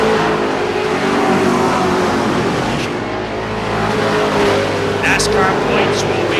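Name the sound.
NASCAR race cars passing on track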